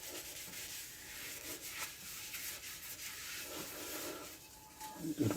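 A soft sponge rubs protective polish over an antique French copper piece, giving a quiet, steady swishing rub that ends in a few louder scuffs.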